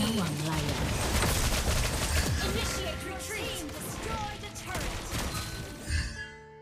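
Rapid gunfire bursts from Lesley's Cheergunner skin in the Mobile Legends video game, crackling shots mixed with game effects and spoken character voice lines, fading out at the end.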